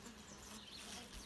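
A brief, faint but continuous buzz of native honey bees working at a strong hive, close and steady for its short length.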